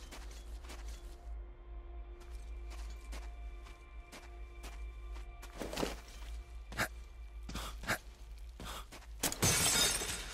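Brittle objects shatter and break in the video game Metro Exodus, a string of sharp crunching cracks scattered over a low steady hum, with faint footsteps between them.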